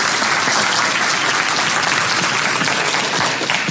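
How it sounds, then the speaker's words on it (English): A lecture audience at a university optimisation class applauds the guest speaker, a broad, steady wash of clapping that stays even and loud from start to finish with no talk over it. "So why don't we give a round of applause to our speaker today?"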